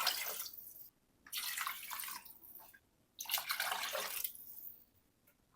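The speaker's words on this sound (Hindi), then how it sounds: "अब इसमें ये 2 कप चावलों के है और हम 4 कप इसमें पानी डालेंगे" Water poured in three separate gushes into a pot of rice and chicken for biryani, each pour a loud splashing rush with short quiet gaps between.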